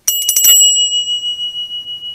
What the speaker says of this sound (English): Then we have some bells.